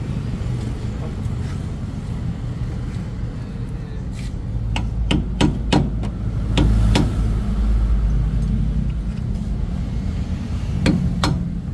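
Sharp metallic hammer blows ring out on a Nissan Almera's rear wheel bearing, a rapid cluster of strikes followed by a few more, over a steady engine and traffic rumble.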